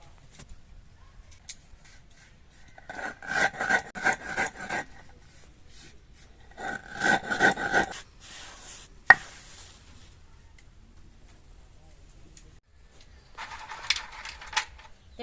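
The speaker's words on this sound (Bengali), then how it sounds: "চিনি গুঁড়ো করে নেব।" Sugar is ground into powder in a home kitchen, making soft, gritty scraping bursts. There are three short separate spells of grinding with quiet pauses between them.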